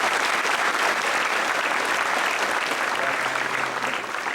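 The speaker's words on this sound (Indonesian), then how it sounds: "Ya, bisa berikan aplaus dong." A studio audience at the Kick Andy Show in October 2011 gives sustained, loud applause, with dense clapping that stays steady throughout and only a faint murmur beneath it.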